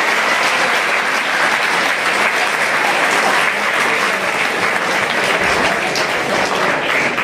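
Steady, loud applause from a school audience welcoming students who excelled in an entrance exam, with dense continuous clapping throughout and no break.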